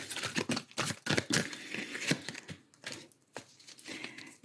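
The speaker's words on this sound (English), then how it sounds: "I'm shuffling the surrender cards." Surrender cards are shuffled by hand, giving a rapid series of crisp riffling and sliding bursts with short pauses between them, close up and alone.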